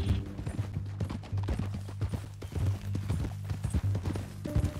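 Horse hooves clip-clopping at a steady walking rhythm in Red Dead Redemption 2, close and clear over a low musical drone, with no talk.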